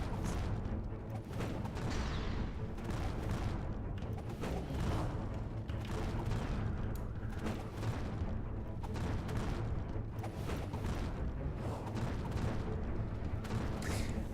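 Dense, continuous gunfire from machine gun turrets in a Viking-themed video game, a steady rapid crackle of shots and booms filling the whole stretch with no pauses and no voices.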